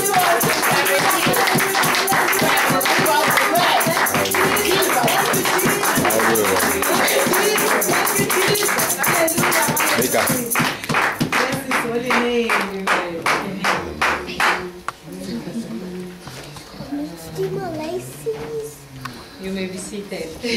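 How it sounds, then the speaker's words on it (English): Church congregation clapping steadily and loudly in rhythm over music for about ten seconds, then thinning into scattered claps beneath singing and voices. "I want us to clap to the prophet and encourage her."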